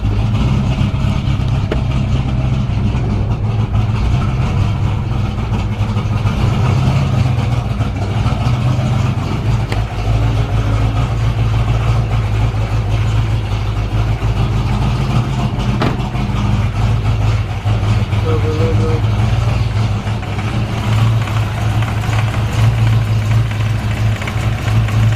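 A Ford Mustang with an oil leak and hard starting idles loud and close in a steady, unbroken low rumble that lasts throughout with no talking.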